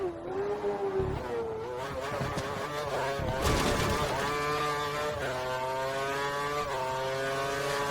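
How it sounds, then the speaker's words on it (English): A race car engine at full revs in the F1 2013 game at Monza, a steady tonal whine that rises and shifts through gear changes, moderately loud and continuous. "We think the car behind is running on full revs."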